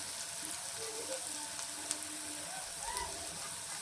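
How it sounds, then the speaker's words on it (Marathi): Chopped onion fries in a pan until turning reddish for a simple masoor dal, a continuous close sizzle dotted with small pops and crackles, no one speaking. "कांदा थोडासा लाल होऊन द्यायचा आहे."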